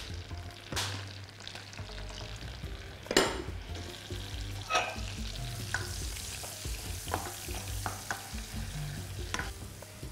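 Lavash appetizer frying in a pan, a soft steady sizzle close by, broken by intermittent scrapes and clatters of a spatula stirring and lifting the layers, with a low hum beneath.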